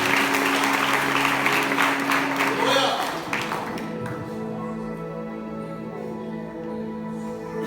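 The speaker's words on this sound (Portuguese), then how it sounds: "Vamos receber o servo de Deus com as palmas de vitória." A church congregation claps to welcome a preacher, the applause loud and dense at first, then fading out as sustained musical tones and a voice carry on underneath.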